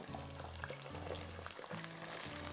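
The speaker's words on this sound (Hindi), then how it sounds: "साथ में थोड़ा सा पानी डाल रही हूँ, प्याज हमारी ज़्यादा ना लाल हो जाए।" Water trickling into a pot of onions, green chilli paste and ginger-garlic paste frying for chicken biryani, a steady close pour layered over sizzling and a low background hum.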